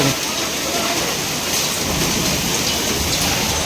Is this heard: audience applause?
no